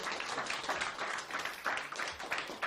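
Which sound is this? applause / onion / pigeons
applause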